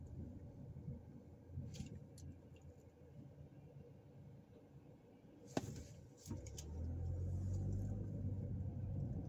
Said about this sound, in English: We're going to take a little drive